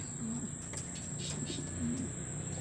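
Racing pigeons cooing at a loft, two soft low coos spaced apart over a steady background hiss and faint chirps.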